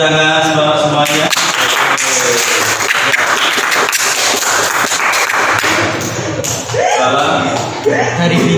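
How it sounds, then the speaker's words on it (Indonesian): A classroom of students claps together in a sustained burst of applause lasting several seconds, with a teacher's voice heard briefly before and after the clapping. "Kita kasih aplaus tepuk tangan semuanya."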